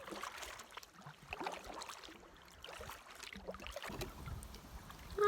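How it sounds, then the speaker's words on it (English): Small solo canoe on a lake, soft irregular splashes and drips from the paddle strokes against light wind and water noise, fairly quiet and close. "There's me paddling my little backboat."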